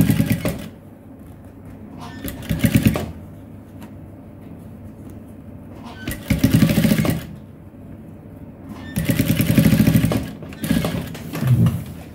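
A sewing machine top stitches a boxer in three separate runs of rapid mechanical whirring, each a few seconds long, with quieter pauses between.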